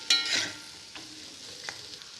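Two chopped onions dropped into hot oil in a pan and stirred, a short burst of sizzling followed by quieter frying with a few scraping stirs of a utensil.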